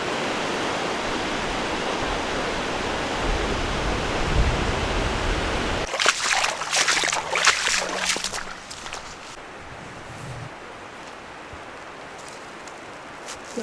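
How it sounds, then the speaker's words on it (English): Rushing water from waterfalls in the Enchanted Valley, Washington State, heard as a loud continuous broadband roar that suddenly drops to a fainter, distant wash, joined by brief rustling and handling noises. "there is waterfalls everywhere"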